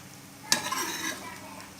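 Onions fry in a pan for a desi chicken curry, opening with a soft sizzle before a sudden scrape of a spoon and a louder burst of frying, close by.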